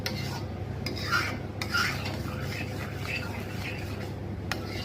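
Mango pulp for aamsotto is stirred continuously in a pot, a steady rhythmic scraping and rubbing close by with faint bubbling underneath.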